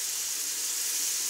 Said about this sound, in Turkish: Şerbetimizi veriyoruz.